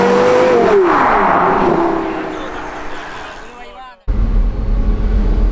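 A Porsche Carrera GT accelerating, its engine note rising loud and close, then fading as the car pulls away, with a sudden burst of noise near the end.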